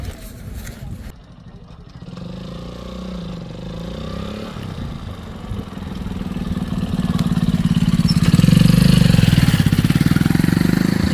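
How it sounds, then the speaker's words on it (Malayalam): A motorcycle engine approaches and grows louder as it crosses a hanging bridge, rumbling up close at the end, with a person talking over it. "കണ്ടോ ബൈക്ക് വരുന്നുണ്ട് ദൈവമേ ബൈക്ക് വരുന്നുണ്ട്"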